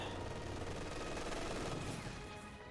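Distant, rapid MG42 machine gun fire in the World War II strategy game Company of Heroes 2, a dense low rattle of bursts under continuous battle noise throughout.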